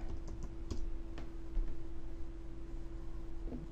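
Someone types on a computer keyboard with light, irregular clicks and taps scattered over a few seconds, fairly close and quiet against a steady low hum.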